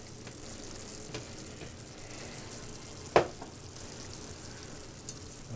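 Soy sauce poured into a Cantonese stir-fry sets off a steady, soft sizzle of frying, with a brief sharp clink near the middle and another toward the end.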